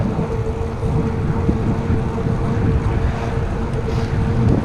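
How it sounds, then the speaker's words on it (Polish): Strong wind rushes past a cyclist riding on an asphalt road, a loud, steady roar of buffeting against the microphone that swells slightly toward the end, with no talking. "Ale teraz już troszkę wieje bardziej."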